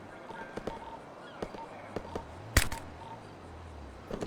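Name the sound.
grenade explosion in a video game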